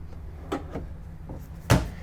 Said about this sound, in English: Even tucked away a little bit more space with a pull-out drawer.